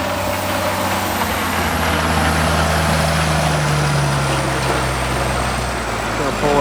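A tractor rigged with a snow plow runs its engine at a steady, loud, low rumble close by, holding an even drone with no letup.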